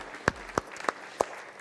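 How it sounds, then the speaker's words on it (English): A handful of separate, sharp claps ring out at a wedding ceremony as guests clap for the bride's sister, spaced unevenly and fairly close, with a quiet room between them. "a generous round of applause"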